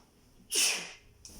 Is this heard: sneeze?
yes